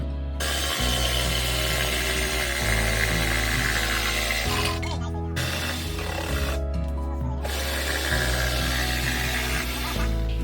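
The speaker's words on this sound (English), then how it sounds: "we'll use a jigsaw to cut those" A jigsaw cuts through wood for a kids' birdhouse build, giving a loud, close buzzing rattle in long bursts broken by two short pauses.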